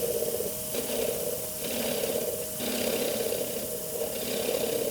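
A wood turning gouge cutting on a lathe while making chopsticks and a rice bowl: continuous rasping scrape over the steady hum of the machine, swelling and easing in several passes.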